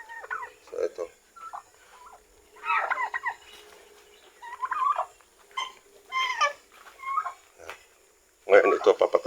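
Turkeys gobbling in their newly finished pen, several bursts of bubbling calls spread out with short gaps, fairly close and loud at the end, with no talk over them.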